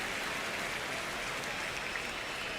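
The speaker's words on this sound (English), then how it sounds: "crowd getting settled here at Dodger Stadium" Steady crowd murmur at Dodger Stadium in the baseball video game MLB The Show 26, a dense, even wash of distant voices and noise with no distinct cheers, no spoken words.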